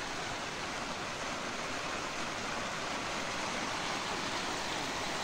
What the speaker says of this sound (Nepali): पानी पर्नु थाल्यो फेरि